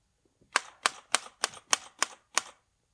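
Seven sharp typewriter key strikes in a steady, evenly spaced rhythm, loud and close, alone with no talk.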